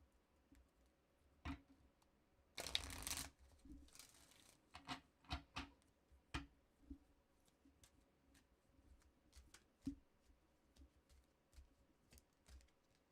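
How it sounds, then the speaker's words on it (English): Cards are shuffled quietly: a brief riffle burst followed by scattered soft taps and flicks of cards being handled and laid down. "One more shuffle."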